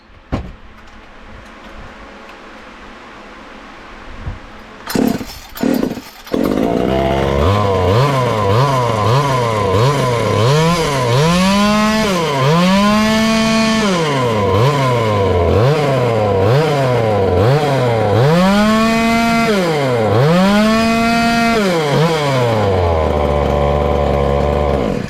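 A small engine in a project vehicle running on methanol fuel: after a few sputtering start attempts it catches and idles loudly, then revs up and down repeatedly in rising and falling surges, close and continuous.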